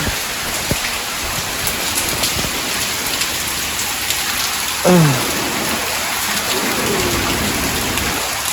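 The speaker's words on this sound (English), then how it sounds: "Just wanted to show the rain." Steady, heavy rain hisses loudly on surfaces nearby in a constant wash of sound, with a faint low rumble briefly rising partway through.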